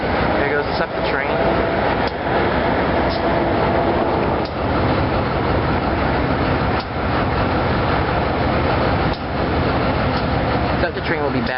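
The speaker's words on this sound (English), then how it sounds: "Septa train." A SEPTA passenger train rumbles by up close, a loud continuous roar of engine and rolling wheels with periodic clanks of rail joints, voices faintly mixed in.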